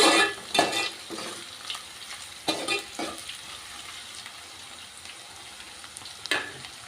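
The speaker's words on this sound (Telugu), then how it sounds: "ఇదంతా కూడా చక్కగా కలిసేలాగా ఇలా కలుపుకుందాం" Fish curry ingredients for a Nellore-style pulusu are stirred together in a pan, with uneven bursts of scraping and mixing strokes rising over a soft, continuous sizzle.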